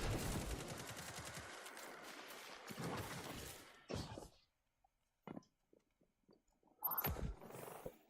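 Fusion rifle gunfire in the video game Destiny 2, a loud crackling burst of charged shots and shattering impacts, then short isolated blasts separated by silence and a final burst.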